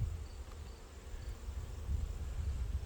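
A dense, steady buzz from a hive of honey bees that came from a swarm, heard close and continuous with no voices.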